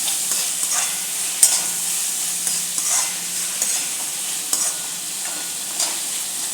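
Chopped tomatoes being stirred into potato masala for a sandwich filling, a steady frying sizzle under repeated scraping strokes of a spoon, close and continuous.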